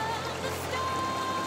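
Steady rushing water at Arapay Falls, a continuous splashing wash like a waterfall, filling the whole clip at even loudness.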